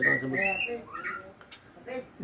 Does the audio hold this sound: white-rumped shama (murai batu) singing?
yes